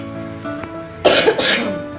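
A woman coughs several times in quick succession, close and fairly loud, with a rough throat-clearing quality.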